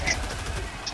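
Hostile birds in the Helldivers 2 video game, a couple of short high calls rising over a noisy, rumbling game soundscape in a brief burst.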